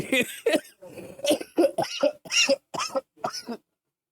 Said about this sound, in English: y'all gonna have me coughing and wheezing